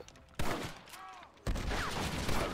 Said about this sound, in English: Dude, I shot that guy.